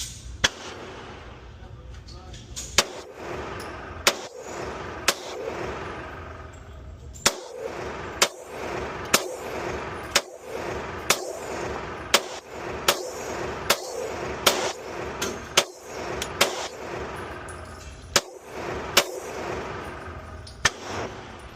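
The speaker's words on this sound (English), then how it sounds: "now we're going to shoot the Glock with the ramjet on it and the Taran mag." Glock 19 Gen 5 pistol fitted with a Ramjet and a Taran magazine fires a long string of sharp shots in an uneven rhythm, some spaced out and others quick doubles, close and loud against steady outdoor background noise.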